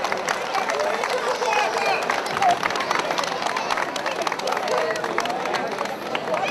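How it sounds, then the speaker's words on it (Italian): A crowd applauds at an outdoor trout festival, steady clapping and murmuring voices filling the space, while an announcer speaks over it. "Un grosso applauso ragazzi,"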